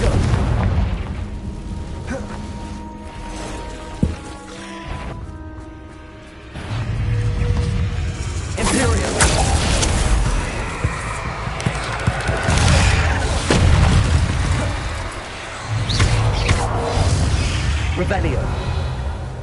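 A fiery Confringo blast spell goes off in Hogwarts Legacy with a sharp boom partway through, then rolling rumbles and bursts mixed into busy game effects and music.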